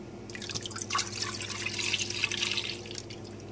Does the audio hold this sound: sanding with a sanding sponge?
no